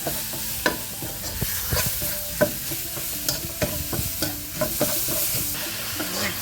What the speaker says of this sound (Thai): ต่อไปใส่หมูบดของเราลงไปเลย